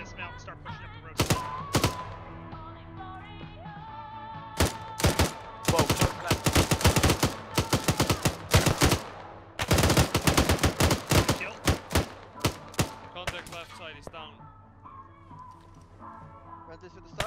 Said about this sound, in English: Taking shots from everywhere.